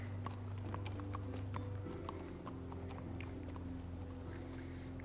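Rhythmic clip-clop of hooves trotting steadily in the video game The Walking Dead Season 3, over a continuous low rumble and hum, with no voices.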